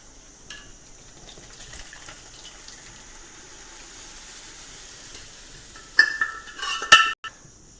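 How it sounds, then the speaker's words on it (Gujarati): Dal is tempered in a hot pan for dal fry: a faint, steady frying hiss, then loud sizzling bursts with stirring near the end as the dal goes into the hot tempering. "દાળ વઘાર લઈએ"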